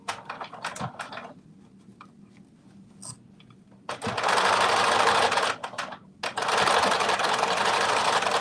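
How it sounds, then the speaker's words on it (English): A sewing machine stitches down straight lines in two loud, steady runs of about a second and a half each, split by a brief pause, after a few quiet clicks and handling noises. "I'm sewing down those lines right now."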